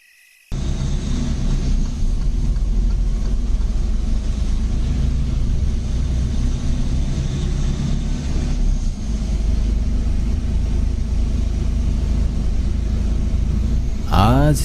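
A bus travels along a dark road at night, its engine giving a loud continuous low rumble that holds steady throughout, with a brief noise burst at the very end.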